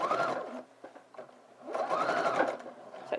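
Sewing machine stitching lining into a sleeveless dress, two close, loud bursts of rapid whirring stitches separated by a brief pause, with no talk.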